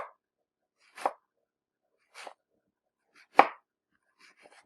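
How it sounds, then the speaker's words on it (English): A knife slicing an onion horizontally on a board for meatballs: four separate crisp cuts spaced about a second apart, close and clear against silence, followed by a few faint ticks. "I'm going to slice the onion horizontally"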